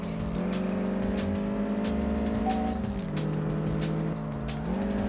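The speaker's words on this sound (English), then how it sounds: "It's the Bugatti Chiron." A Bugatti Chiron hypercar engine in the PS2 game Test Drive Unlimited drones steadily and loudly, its tone rising and dipping as revs change, with no voices over it.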